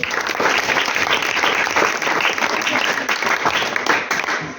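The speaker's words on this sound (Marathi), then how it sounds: "त्यांच्यासाठी प्लीज एकदा सर्वांनी जोरदार टाळ्या वाजवा" An audience at a school children's literary meet applauds, dense continuous clapping at full strength that holds steady throughout, loud and close.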